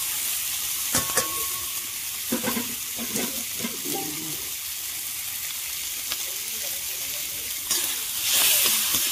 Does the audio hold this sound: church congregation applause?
no